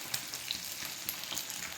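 Mustard seeds, garlic, curry leaves, asafoetida, dried red chilli and cumin fry in hot oil as a tempering for tomato rasam. The sizzle is close and steady, with frequent sharp spits and pops.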